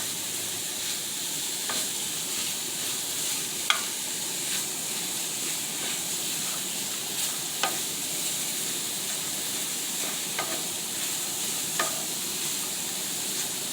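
Sausage browns in a hot pan with a steady, loud sizzle and hiss, broken by periodic scrapes and taps of a utensil breaking up the meat, close and continuous with no talking.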